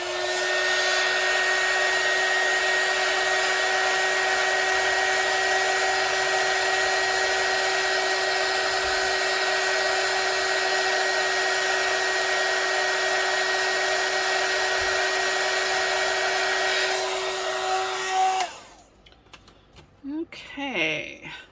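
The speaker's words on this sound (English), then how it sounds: "getting the heat gun out, so a little noise here" A heat gun blows steadily over a resin mold, a loud, even whoosh with a faint whine that runs unbroken for about eighteen seconds, then cuts off, leaving a few quiet handling clicks.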